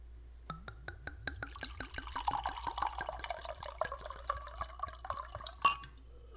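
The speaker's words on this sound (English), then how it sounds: "ASMR pour." A liquid poured slowly into a glass, with a series of close, crisp drips and splashes that quicken into a bubbling, rising fill, then a sharp clink near the end, all quiet and free of talk.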